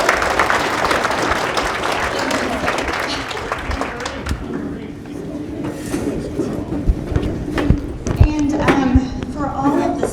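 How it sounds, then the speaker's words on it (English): An audience at a company's annual celebration claps in a dense burst of applause for about four seconds. It fades into scattered claps and a murmur of voices talking in the room. "let's give them a round of applause"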